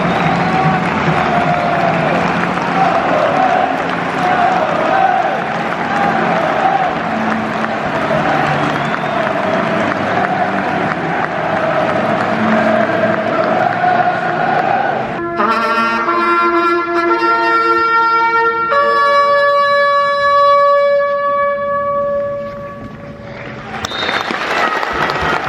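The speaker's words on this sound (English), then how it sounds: "Very decent crowd here at the CBS" A decent-sized football crowd at the CBS stadium for a Coventry City vs Stoke City match, with a steady wash of applause and crowd noise throughout, then a sustained musical tone over the noise in the second half.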